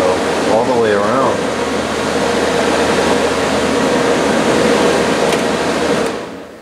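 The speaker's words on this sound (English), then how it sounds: "Even on high, the airflow is really kind of abysmal out the front here." A fan runs on high with a steady whooshing airflow drone, and a brief voice-like warble appears near the start before the noise fades out at the end.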